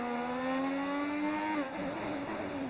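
A 1986 Formula One car engine in the racing game F1 25, a steady high-pitched whine holding revs, then dropping and shifting as the car brakes, with a faint tire squeal.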